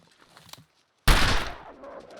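A single loud gunshot cracks out in the survival video game The Long Dark, preceded by faint quiet clicks and followed by a fading echo.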